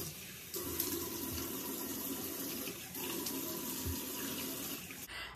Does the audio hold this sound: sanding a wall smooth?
no